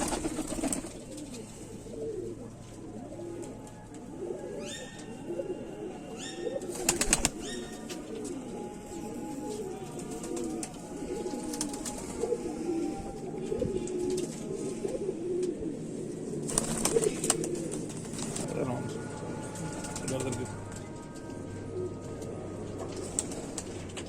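Kamagar pigeons, a prized shaded breed, coo softly and steadily in a loft, with occasional wing flaps and a few chirps from other birds at moderate distance.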